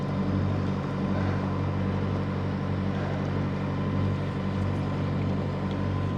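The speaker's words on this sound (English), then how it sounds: "Motorboat." A motorboat runs steadily close by in a Croatian marina, its low engine drone constant and fairly loud over lapping water, with no voices.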